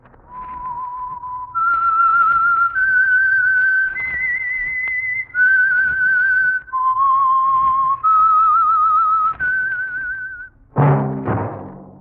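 The whistled theme signal of The Whistler radio program: a lone, clear whistled melody of sustained held notes stepping up and down, loud and close, followed by a brief sharp burst at the end.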